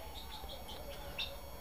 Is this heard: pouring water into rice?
no